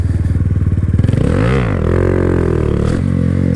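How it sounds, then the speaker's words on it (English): A Honda Grom motorcycle engine pulses loudly as the front wheel lifts into a wheelie. When the rear brake is applied, the revs swoop and then sag into a lower, strained drone that continues close up, with no talk. "you can kind of hear as I bring the wheel up and hit that rear brake, how it kind of bogs down"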